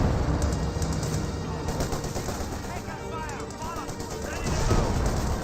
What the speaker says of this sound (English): More grenades being thrown.